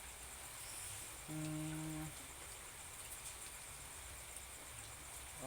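Rain falls steadily outdoors as a soft, even hiss that never lets up, with a brief low lowing animal call rising partway through.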